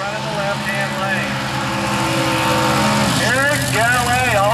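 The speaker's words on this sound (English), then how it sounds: "Eric Galley also doing the burnout with the alternate over here on the right-hand side" A Nostalgia Super Quick drag racing car does a burnout at the strip, its engine roaring loud and sustained with rising revs near the end.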